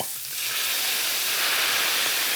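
White wine poured into a hot pan with pancetta hisses into a loud, steady sizzle of steam and bubbling, close and continuous with no talking.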